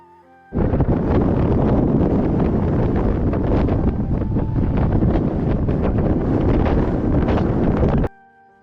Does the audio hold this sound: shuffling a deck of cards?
no